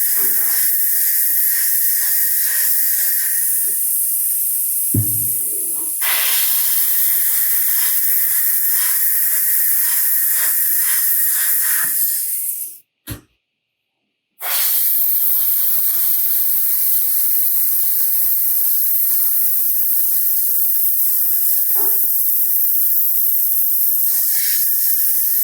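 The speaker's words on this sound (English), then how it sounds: "I usually don't like airbrushing that close to something like that without masking" An airbrush sprays paint onto a quarter-scale custom Thor sculpture, a close, continuous hiss that runs almost unbroken with one short pause midway.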